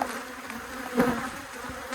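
Steady buzzing from many honeybees close by at a hive, a continuous droning hum with a slight swell near the middle.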